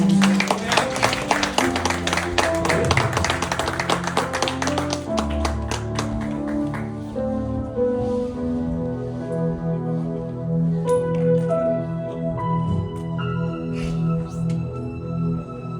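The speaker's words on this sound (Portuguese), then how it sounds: "pode dar uma salva de palmas para Jesus" Church congregation clapping for Jesus after a sermon, dense rapid claps at first, thinning out over music-like sustained tones and some voices.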